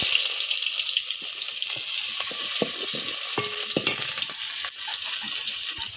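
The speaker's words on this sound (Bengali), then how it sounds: "দেখেন এখানে দিয়ে দিলাম তেল, এখন দিয়ে দিব পেঁয়াজ" Onions frying in hot oil in a pan for a home-cooked veal curry, a steady close sizzle with small crackles and occasional stirring clicks, no talking.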